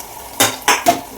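Metal spoon scrapes and knocks against a cooking pot while stirring dal khichdi in a home kitchen, three quick close clatters spaced evenly apart over a quiet background.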